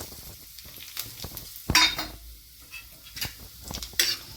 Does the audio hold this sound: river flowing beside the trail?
no